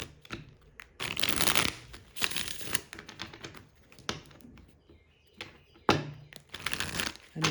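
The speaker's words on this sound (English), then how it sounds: "I apologize if it's not picking up my shuffling on this camera." Tarot cards being shuffled in quick riffling bursts with short pauses, close by and fairly quiet, no talking.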